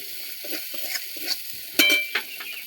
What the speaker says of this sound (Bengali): আবারও ভালো করে কষে নেব